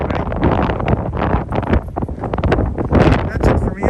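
Strong wind buffets the microphone at the Ephesus ruins near Kusadasi, Turkey, a loud, continuous roaring rush with gusting surges, while a person talks throughout.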